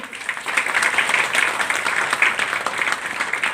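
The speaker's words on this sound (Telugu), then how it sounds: "ప్లీజ్ అమ్మా అందరితో చప్పట్లు పట్టాలి" Audience applause fills a hall at a public awareness meeting on microfinance and cyber crime, a dense, steady wash of many hands clapping close by for the full stretch without letup.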